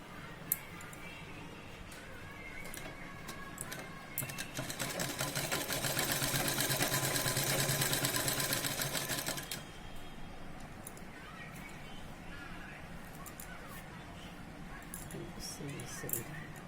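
A sewing machine stitches the shoulder seam of a princess-cut blouse, a steady rapid whirring run of several seconds rising and then stopping, close and moderately loud, with quieter handling sounds before and after.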